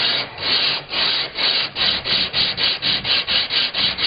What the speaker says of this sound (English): On to various grits of hand sanding